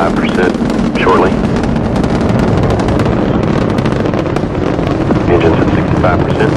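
Space Shuttle Challenger main engines and boosters roar during the STS-51-L launch, a loud, continuous broadband rumble with crackling bursts and wind buffeting on the microphone throughout.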